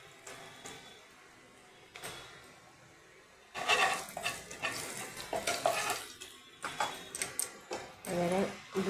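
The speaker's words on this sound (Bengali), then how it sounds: "ডিম ভেজে নিয়েছি, এবার আমি একটু হিং দিয়ে দিচ্ছি।" Asafoetida dropped into hot oil left from frying eggs: a quiet stretch, then a sudden loud sizzle with stirring and pan clatter, while a voice speaks.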